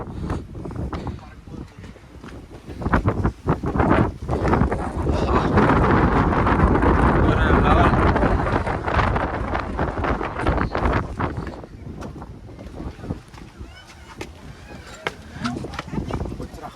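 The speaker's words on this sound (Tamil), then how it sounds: "ஆமாம் காற்று ஆளாவே தூக்குற மாதிரி அடிக்குது" Strong wind at a hilltop viewpoint in Valparai roars and buffets the microphone continuously, swelling to a loud, sustained gust in the middle, with voices partly audible beneath it.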